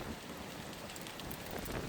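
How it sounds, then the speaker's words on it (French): Heavy rain driven by wind during storm Pedro in the Isère area, heard from a window: a dense, steady roar of falling water hitting surfaces, constant and fairly faint, with no voices. "Avec la pluie et le vent en même temps."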